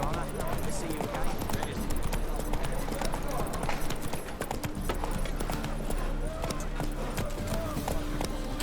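A horse's hooves clip-clop at a running pace on the ground in The Witcher 3 video game, steady rhythmic hoofbeats mixed with in-game ambience and voices talking.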